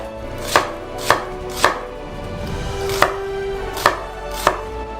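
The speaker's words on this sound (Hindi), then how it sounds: "हम इसे आड़ा और खड़ा काट लेंगे।" A knife chops an onion on a cutting board for pizza sauce, six sharp, distinct thuds spaced roughly half a second apart, close and clear over a quiet room.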